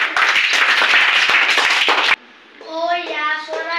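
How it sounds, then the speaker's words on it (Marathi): A group of children clap together in a lesson for a classmate, a brisk dense burst of applause that cuts off abruptly, followed by a short sung or spoken phrase. "चला शिवमसाठी टाळ्या वाजवा"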